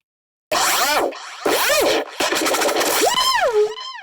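Loud synthesizer bass notes from a Color Bass plugin preset in separate bursts, with swooping, warbling pitch bends and gritty textures, played alone after a moment of silence.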